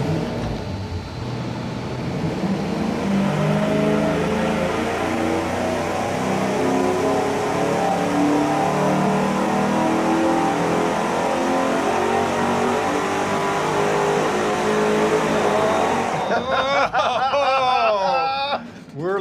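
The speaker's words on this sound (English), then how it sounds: "We're ready to fire up and run it with the single exhaust with a turbo muffler" High performance engine roaring on a dyno through a single exhaust with a turbo muffler and 90-degree merge, loud sustained revving climbing and holding for over fifteen seconds before dropping off, with speech at the end.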